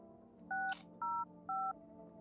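Telephone keypad dialing in the video game No, I'm Not a Human, three clean electronic tone beeps evenly spaced about half a second apart, clear and close over a faint background hum.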